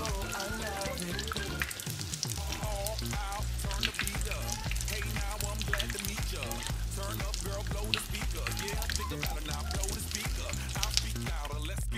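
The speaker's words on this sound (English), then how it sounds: "there is some bubbles forming around the egg roll, so that tells you that it is a good temperature at for frying" Filipino lumpia egg rolls frying in hot oil, giving a steady, dense sizzle and crackle that runs unbroken at a constant level, with tonal sound layered on top.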